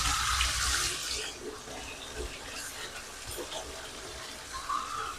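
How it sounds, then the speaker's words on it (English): Hot water gushes from a tap into a basin, loud and splashy at first and then settling into a quieter, steady running stream. "Cover your ears if the water sound bothers you."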